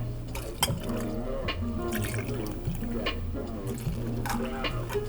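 Original Absolut vodka is poured, 45 ml per drink, into iced glasses for a vodka soda, a steady close liquid trickle with small clinks and drips throughout.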